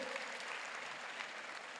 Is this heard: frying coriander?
no